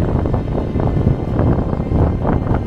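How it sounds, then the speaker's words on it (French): Strong wind gusting across a microphone on the coast between the Basque Country and the Gironde, a loud, steady low roar with gusty swells throughout and no voices. "En plus on a le vent."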